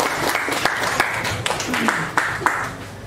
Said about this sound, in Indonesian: tepuk tangan untuk Bu Ari dan Bu Ari